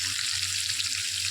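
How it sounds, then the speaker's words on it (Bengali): Potatoes fry in hot oil with a bright, even sizzle, close and constant over a brief stretch, with a faint low hum beneath it. "আলুগুলো প্রথমে তেলে ভেজে নিচ্ছি।"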